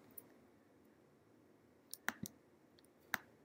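Several sharp, isolated mouse clicks in presentation software, quiet and spaced apart over a faint background hiss, with a small cluster near the middle and one more toward the end.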